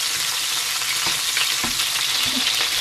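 A thick tomahawk steak fries in an oiled pan too small for it, giving a steady, dense sizzle and crackle with small pops throughout and no voices.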